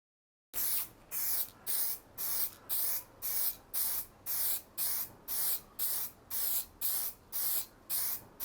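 Repeated short bursts of spray-can paint hissing, about fifteen evenly spaced pulses in a steady rhythm, close and clear with no voices.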